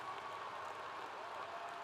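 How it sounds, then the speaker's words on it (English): Audience applause at a university spring commencement ceremony: a steady, dense wash of clapping from a large crowd, even in level throughout, with no voices standing out. "let's give a big Coug round of applause to these employees"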